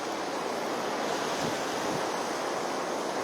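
Strong, steady wind roaring in the cold Himalayas between Uttarkashi and Gangotri, a dense continuous rush buffeting close to the microphone, with no voices.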